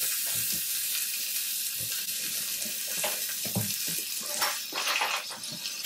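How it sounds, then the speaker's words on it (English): Pieces of oxtail browning in hot oil, a steady close hiss of sizzling and spitting fat that runs throughout with no talk. "we're going to start to brown our oxtail. With a little bit more oil."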